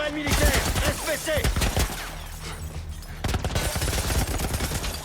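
Military turret gunfire in The Last of Us survival mode, a dense burst of loud rapid shots with a short lull before firing resumes, alongside other game noise.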